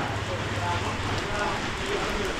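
Heavy rain pours steadily in Samlout district of Battambang province, Cambodia, a dense, even hiss of downpour with no breaks.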